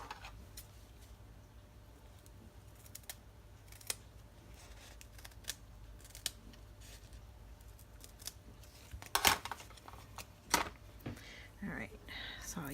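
Scissors snip through paper pieces for handmade card making, giving a few soft, scattered cuts at close range over a quiet room hum, with a denser cluster of crisp snips near the end.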